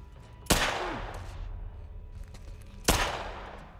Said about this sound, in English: What are you shooting at, Tess?